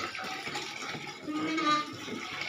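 Water gushes from a hand-operated water pump (poso) indoors, a steady splashing flow with a slight swell in the middle, close and moderately loud, with faint voices in the background.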